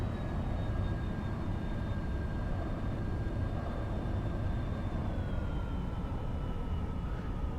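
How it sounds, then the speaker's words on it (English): A steady, droning aircraft engine in flight in the X-Plane 11 flight simulator hums continuously at an even level, with a faint high tone gliding slightly downward over time. "This plane lands like a brick, so fasten your seatbelts."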